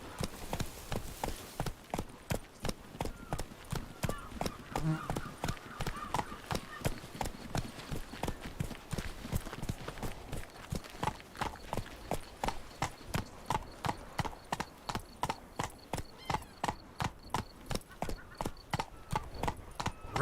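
Horse hooves galloping in The Witcher video game, a steady fast clip-clop rhythm running close and loud throughout, with faint voices in places.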